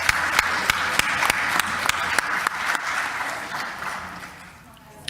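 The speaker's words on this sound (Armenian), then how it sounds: "Առաջարկում եմ ծափահարենք։" Applause in a parliament hall, sharp scattered claps over a crowd wash that gradually thins and fades toward the end.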